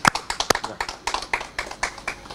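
A small group at a painting exhibition opening applauds with scattered, uneven claps at close range, fading slightly toward the end.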